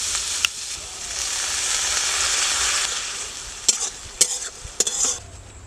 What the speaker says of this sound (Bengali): মশলাগুলো দিয়ে আবারও ভালো করে কষাতে হবে